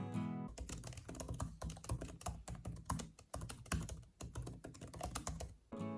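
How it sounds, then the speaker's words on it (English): Rapid, steady typing on the low-travel keyboard of a MacBook Air M1 laptop, a dense run of light, close clicks and taps that continues almost without pause. "The sound of the keyboard is fantastic."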